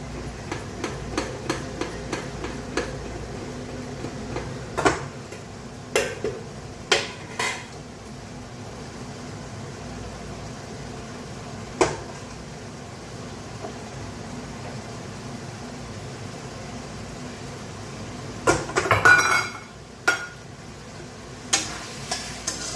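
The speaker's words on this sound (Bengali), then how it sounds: "এখানে ভাতের পরিমাণ অনুযায়ী আমি হালকা করে নুন ছড়িয়ে ভাতটাকে মিশিয়ে নিচ্ছি" Cooked rice being mixed with salt in a pot for prawn biryani, repeated metal utensil scrapes and clinks against the pot, close by, with a louder clattering burst near the end and no voices.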